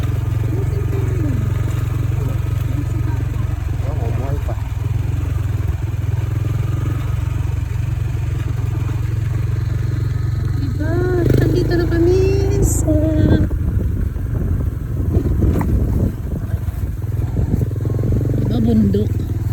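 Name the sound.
motorcycle engine running while riding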